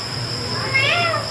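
An owl's single wavering, cat-like screech rises and falls over a steady background hum, fairly close and moderately loud.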